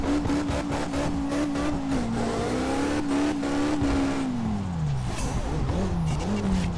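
Sports car drifting in a racing video game, with a sustained engine whine that wavers and dips as the tires squeal and scrub through a long slide, loud and close throughout.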